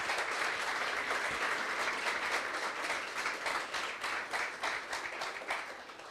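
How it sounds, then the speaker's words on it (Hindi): A church congregation claps for Jesus during a Hindi sermon, sustained steady applause at constant strength with occasional distinct claps, gradually easing near the end. "आइए ऐसे ही यीशु के लिए ताली बजाएंगे हम सब।"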